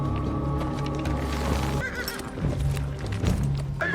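Horses of a mounted troop neigh loudly and whinny again while hooves clop on the ground beneath, close and busy, with a dramatic background of other sounds.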